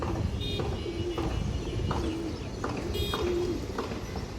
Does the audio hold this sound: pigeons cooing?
yes